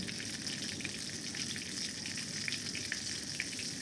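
Nigella seeds fry in hot oil as a tempering, producing a soft, continuous crackling sizzle at low volume that stays even throughout, with no voices.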